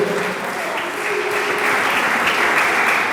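A church congregation claps together to the God of heaven during a sermon, with dense, continuous clapping and no break across the whole stretch.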